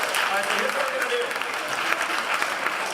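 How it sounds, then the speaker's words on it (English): Sustained, dense applause from a seminar audience at a leadership session, cheering on volunteers, steady throughout with a voice briefly talking over it. "big round of applause for our volunteers and stuff"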